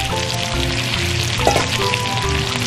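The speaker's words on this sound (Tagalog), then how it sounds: "igisa lang natin ito kasama ng ating shrimp paste" String beans sautéing with shrimp paste in a hot pan, a loud steady sizzle close up with a brief scrape or clink partway through, no talking.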